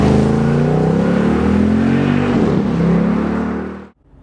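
A Jeep Grand Cherokee SRT8 accelerating hard with a loud, close, rising engine roar that is continuous and heard alone, then cutting off abruptly at the end.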